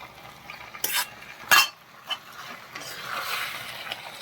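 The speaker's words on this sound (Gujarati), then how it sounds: "બધી જ વસ્તુને સરસ મિક્સ કરી લઈએ આપણે." Pasta with mixed herbs is stirred in a pan, producing a few distinct scraping clinks of a utensil against metal, then a softer, continuous sizzling mix.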